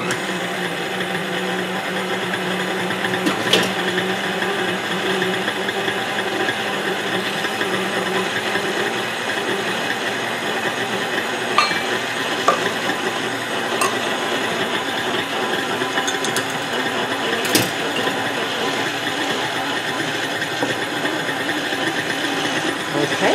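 An electric stand mixer runs steadily on crescent roll dough, a continuous mechanical whir with faint rattles and a few brief knocks throughout.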